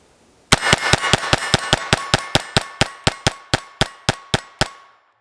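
A Sig P322 pistol fires a rapid string of about twenty sharp, evenly spaced shots over roughly four seconds, each crack loud and ringing, with no talk between them.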